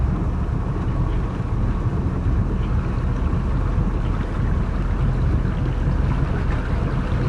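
A twin stern-drive engine boat motoring out of a harbor, giving a steady, loud, unbroken low rumble mixed with rushing wind and water noise.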